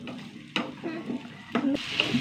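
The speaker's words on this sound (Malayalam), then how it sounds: "ചെറുതായിട്ടൊന്ന് വഴറ്റിയെടുക്കാം" Thickly cut pieces being sautéed in a pan, a soft sizzle broken by several sharp stirring clatters of a utensil against the pan at irregular moments, with no talk.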